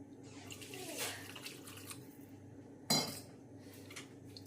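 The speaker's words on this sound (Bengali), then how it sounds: "এখন জল ঢেলে দিচ্ছি এর মধ্যে" Water poured from a vessel into a cooking pot of jackfruit curry, a steady splashy wash running throughout with a sharp clatter of the pot near the middle, close and moderately loud, no talk.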